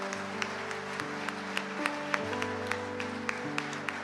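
A church congregation applauds, with scattered claps rising over a steady, sustained keyboard-like musical tone, no one speaking.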